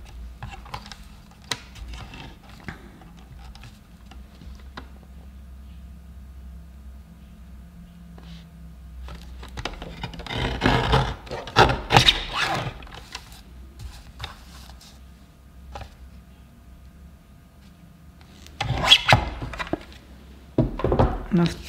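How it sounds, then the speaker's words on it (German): A lever paper trimmer slices through card stock for a handmade Christmas card. Two clusters of crisp, scraping cuts and clicks stand out, over a quiet low hum with scattered small handling taps between them. "schöner als mit der Schere kommt das effektiv kurz mit dem Hebelschneider"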